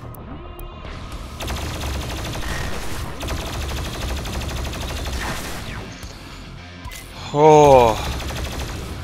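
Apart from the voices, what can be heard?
chain gun firing in the video game Doom Eternal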